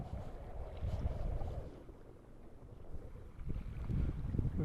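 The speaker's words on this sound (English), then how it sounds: "Wind blowing pretty good" Wind gusts over Cayuga Lake while fishing from a small boat, a low rushing buffet against the microphone that swells and eases, with faint water movement underneath.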